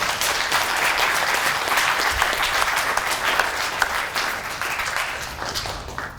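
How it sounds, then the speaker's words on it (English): Warm audience applause welcoming two speakers at a lecture on Indigenous governance, made of continuous, dense clapping from many hands that stays fairly even for several seconds and eases slightly toward the close. "give a warm welcome to Dr. Stark and Dr. Hill with another heartfelt round of applause"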